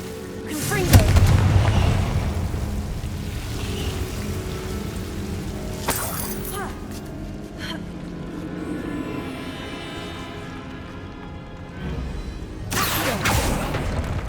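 Heavy fiery spell blasts boom out in the Hogwarts Legacy video game, three broad explosive bursts spaced several seconds apart over a steady rumbling game backdrop with scattered crackling.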